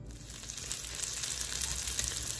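Pork chuleta sautéing in an Instant Pot GeM multicooker set to 375 on saute, giving a continuous even sizzle with a faint hiss and no talk.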